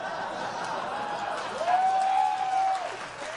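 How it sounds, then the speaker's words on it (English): Podcast audience at a live comedy recording breaks into applause mixed with chuckles and crowd murmur, a steady wash of clapping that swells briefly mid-clip and fades near the end. "I don't know why that got an applause,"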